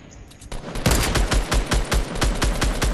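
Rapid automatic gunfire in a Fortnite match, a steady burst of close, loud shots that keeps going after a short quiet lead-in.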